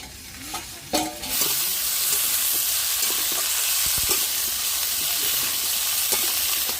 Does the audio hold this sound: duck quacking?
no